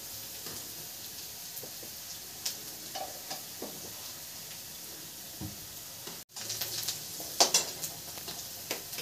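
Onion and crushed garlic fry in a pan for lady finger (okra) curry, with a faint, low sizzle and occasional light ticks and scrapes from stirring, growing slightly louder near the end.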